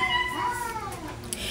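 Neighbours' cats meow loudly nearby, a couple of drawn-out rising and falling cries close together over a brief moment, with faint kitchen background.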